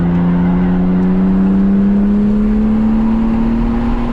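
A high-mileage BMW M3 on a track lap pulls hard on throttle, its engine note climbing steadily and loudly throughout, close and continuous with no talk over it.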